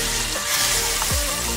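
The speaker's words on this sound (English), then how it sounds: "Look at that baby sizzle!" Egg- and flour-coated food sizzles steadily in hot frying oil, a dense, continuous crackle close to the microphone with a brief clink partway through and no talking.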